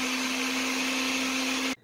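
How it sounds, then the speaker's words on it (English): A countertop blender whirs steadily while blending salad dressing ingredients such as cilantro, lime and ginger, a loud, even motor drone that cuts off abruptly near the end. "So I'm going to put all of the ingredients in the blender and blend them up"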